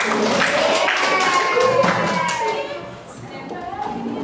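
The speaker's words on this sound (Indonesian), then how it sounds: "Udah, tepuk tangan buat kalian semua" A group of children clap their hands together in a classroom lesson, a busy patter of claps mixed with lively young voices chattering throughout.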